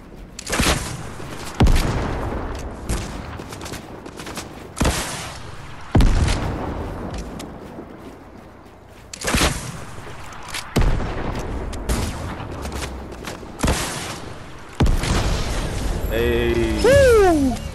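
Rocket launcher blasts in a video game: several loud, sharp booms spaced a few seconds apart, each trailing off, with other game effects and a rising whistling tone near the end.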